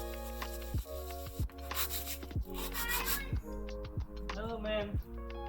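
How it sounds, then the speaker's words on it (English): Small 3D-printed motor mount pieces are sanded by hand in short rhythmic rubbing strokes, close and steady, under a constant hum with a voice speaking over it. "Sanding these little pieces."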